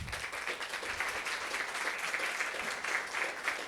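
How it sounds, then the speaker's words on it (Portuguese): Applause from an audience at a talk, steady dense clapping filling the room without a break, moderately loud throughout. "Uma salva de palmas."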